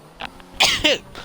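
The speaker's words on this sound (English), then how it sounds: "I sneezed" A person sneezes once, a short, close burst followed by a second quick exhalation, with a faint earlier throat sound before it and no talking.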